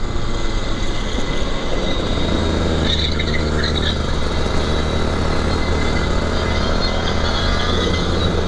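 A car on a race track, a dense, loud roar of engine and road noise that holds steady throughout, with a brief higher whine partway through.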